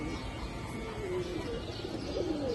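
A female afsan bagha silver pigeon gives low, throaty coos in short rolling phrases, close and soft over a continuous background hum.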